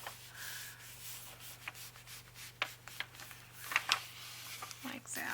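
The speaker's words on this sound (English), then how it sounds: "I'm just going to come along here and just kind of go against the edge, break down a little bit of that fiber, and fold it over." Paper on a file folder being creased and folded along an edge, heard as scattered close rubbing and scraping strokes of varying strength over a steady low hum.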